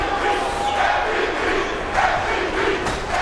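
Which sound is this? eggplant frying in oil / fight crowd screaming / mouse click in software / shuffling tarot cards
fight crowd screaming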